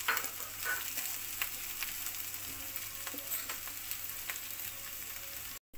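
Cabbage, capsicum and carrot sautéing in a hot pan, a steady close sizzle with scattered crackles and light stirring scrapes, cutting off abruptly near the end.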